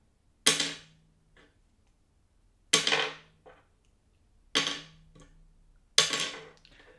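Four separate strums on an acoustic guitar with an ivory nut, each ringing out and fading before the next, spaced about two seconds apart.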